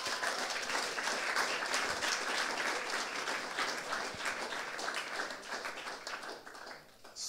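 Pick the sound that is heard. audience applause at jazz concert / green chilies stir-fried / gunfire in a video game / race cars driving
audience applause at jazz concert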